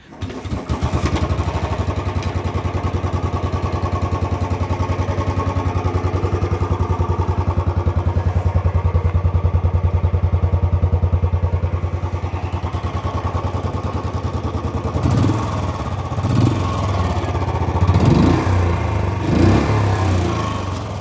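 A Royal Enfield Bullet 350 motorcycle with a stock silencer idles steadily from a cold start with a low, even throb, close by; toward the end a few louder mechanical clatters and revs rise over the hum.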